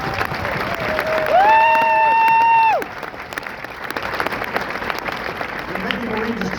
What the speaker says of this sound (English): would you join me in a round of applause for the families of Hotel Hell?